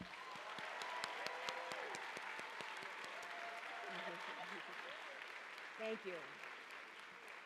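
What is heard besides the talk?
audience applause for retiring staff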